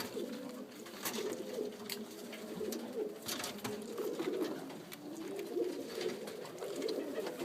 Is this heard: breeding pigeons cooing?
yes